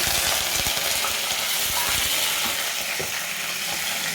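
Curry leaves crackle as they drop into hot oil already frying mustard seeds and urad dal for a Guntur kara chutney, with a loud, steady sizzle broken by sharp pops and spatters.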